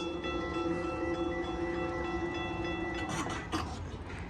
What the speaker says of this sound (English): The GO train just went by, like, oh, there it goes.